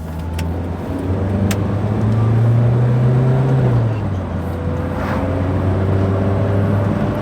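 A Renault Twingo Benetton with a 55 horsepower engine driving on the road through a roundabout, a steady interior engine drone and road rumble with a rising and falling engine note.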